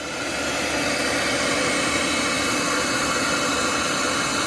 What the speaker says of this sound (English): I just turned this hair dryer, and that's a good hair dryer, but I just turned it on.